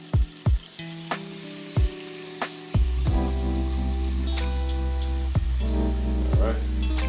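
Salmon fillets searing in a frying pan, a loud continuous sizzle that swells as the fish goes in, with a few sharp clinks and knocks from utensils and a faint hum beneath.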